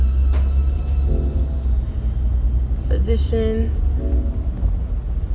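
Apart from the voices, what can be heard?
car engine rumbling while parking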